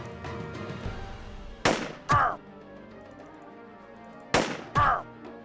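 Two sniper shots ring out in the tactical video game Jagged Alliance 2, each a sharp crack followed by a short echoing report, spaced a few seconds apart over quiet background game ambience.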